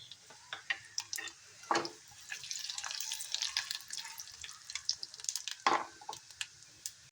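Whole spices frying in hot oil and ghee in a pressure cooker, a quiet, continuous crackle and sizzle with scattered pops and a couple of sharper clinks of a utensil against the pot.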